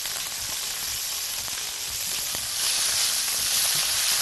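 Sausage sautéed in a pan with chopped onion and peppers, a close, steady frying hiss with light stirring taps that grows louder and fuller about halfway through.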